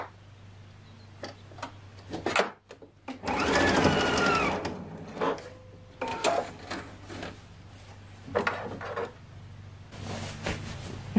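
A sewing machine topstitches close to the edge of a dress collar, running in a loud sustained burst framed by shorter start-stop runs and clicking handling noises, with a faint hum underneath.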